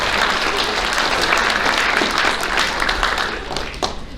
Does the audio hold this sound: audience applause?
yes